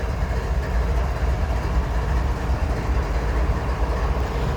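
CSX intermodal trains rolling past a street crossing in Tullahoma, Tennessee, a steady close rumble of rail cars with continuous low-end noise and faint clatter throughout.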